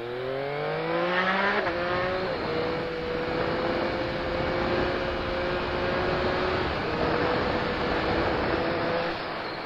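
Yamaha MT-09 motorcycle engine revving up through the gears, a rising pitch that drops at the shift into third, then holds a steady loud drone with wind noise throughout; no talking.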